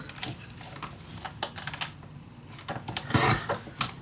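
Scissors or a trimmer cutting a piece of scrapbook paper, giving a run of quiet crisp snips and clicks close by, ending with a few louder cuts.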